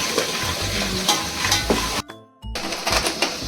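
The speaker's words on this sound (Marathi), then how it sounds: "थोडंसं फ्राय करायचं आणि मग ते सगळं खेकडे फ्राय करायचे" Crabs and masala frying in hot oil in a Malvani kitchen, a loud continuous sizzle and crackle with scraping stir strokes, cutting out briefly to near silence before the frying resumes.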